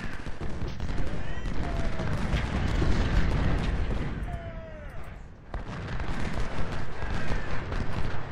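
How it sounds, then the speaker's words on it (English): Musket volleys from several infantry brigades in a Civil War strategy video game, a dense continuous crackle of rifle fire with booming shots, a brief lull near the middle, and someone talking over it. "I've got three brigades firing on Nagel."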